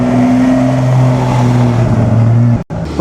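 A classic Aston Martin sweeps past at the Mille Miglia, its loud, sustained engine note droning close by for a few seconds before cutting off abruptly.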